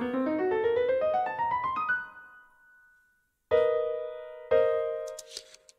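Short piece of composite animation music: a quick rising run of bright synth or mallet-like notes climbs for two seconds and fades, then two loud sustained chord hits ring out after a brief silence, ending with faint sparkly high tones.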